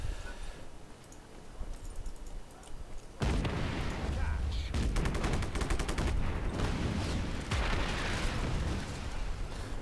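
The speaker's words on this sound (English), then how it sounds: "I'll explode this part again" Explosions and gunfire burst out in Just Cause 3, a quiet stretch giving way at once to a loud, sustained roar of blasts and crackling shots that holds steady to the end.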